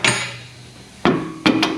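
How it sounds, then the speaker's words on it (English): A rubber mallet strikes metal parts three times during reassembly of a 2022 Toyota Tundra while a leveling kit is installed. The first blow is single, then two quick ones follow, each sharp and close. "a rubber mallet."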